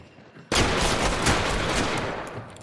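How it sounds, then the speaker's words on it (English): Scottsfield SMG in Hunt: Showdown firing FMJ rounds through a wall, a sudden loud burst of rapid automatic fire starting abruptly and continuing dense and close to the end. "Don't be afraid to shoot through walls with this Scottsfield."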